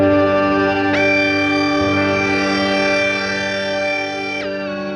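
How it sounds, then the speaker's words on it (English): A sustained guitar tone through an octave reverb pedal, smeared into an airy, shimmering octave-up reverb wash, swelling in and slowly decaying over several seconds. "you have that really airy sort of octave reverb sound"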